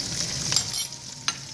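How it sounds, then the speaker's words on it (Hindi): Cumin seeds and green chillies crackle in hot oil for a tadka in an aloo gobhi dish, giving a steady close sizzle broken by a few sharp pops. "दूसरे लफ्जों में ये हम तड़का लगा रहे हैं।"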